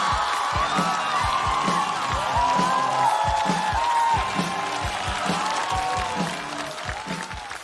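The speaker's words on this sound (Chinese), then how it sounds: "掌声欢迎杨崽儿。" A stand-up comedy audience applauds and cheers to welcome a comedian to the stage. The clapping and whoops are dense and sustained under a pulsing musical beat, then ease slightly toward the end.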